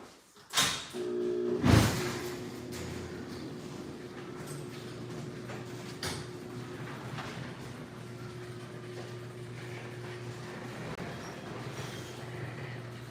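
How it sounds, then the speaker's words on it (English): A door is opened close by with a couple of quick sliding knocks near the start, followed by a steady low engine-like hum that carries on alone. "I'll just open the door."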